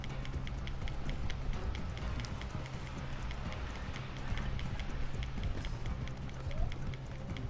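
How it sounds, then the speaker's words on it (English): A horse gallops in the western game Red Dead, heard as steady, rapid hoofbeats that run through the clip at a moderate level, with faint background ambience. "get on the goddamn horse"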